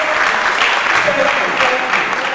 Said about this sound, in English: So, SCE, please applaud yourself for the choice of theme for this conference